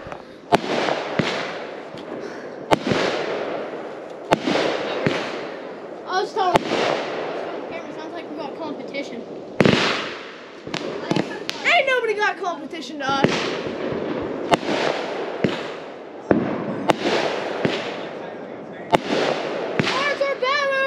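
July Fourth fireworks going off outdoors, with repeated sharp bangs and crackling bursts at irregular intervals throughout, loud and close, while people shout and talk over them.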